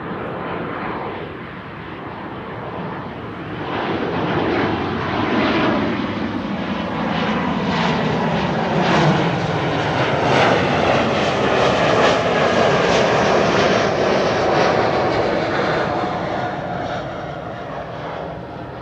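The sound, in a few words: Embraer E195 jet aircraft flight to Berlin at Schiphol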